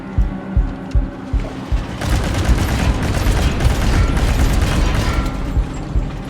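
Gunfire from a Nazi soldier in a war video game: a few sharp shots early on, then a dense, sustained roar of overlapping gunfire and booms filling the rest, loud and close.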